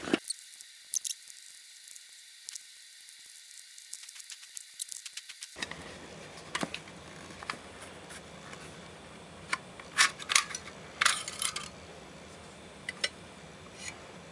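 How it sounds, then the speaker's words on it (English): An HDP50 airsoft pistol is taken apart, its magazine dropped out and its screws removed: a near-silent start gives way to sporadic close clicks, light knocks and small handling taps. "So drop the mag, get the screws out."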